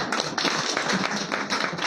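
Loud, dense applause from a crowd at a political party office opening, continuous clapping filling the whole stretch without a break.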